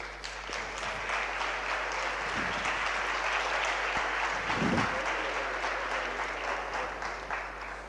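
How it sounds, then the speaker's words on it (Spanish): An audience at a plenary session on sustainability applauds as a regional economy minister is introduced. Sustained clapping holds evenly throughout, with a low hum underneath. "Un fuerte aplauso."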